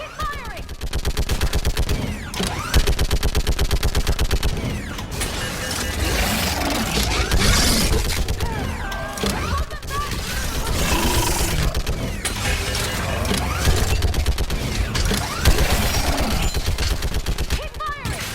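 Gunfire in the video game Mass Effect 3, dense and continuous, with rapid automatic bursts and heavier shots in a loud battle, with voices shouting over the fighting.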